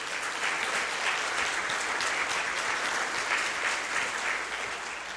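Sustained applause at the FAMU National Alumni Association convention general body meeting, honoring the convention committee and the Far West Region Dallas chapter; a steady, even roar of many hands clapping, moderately distant and uninterrupted.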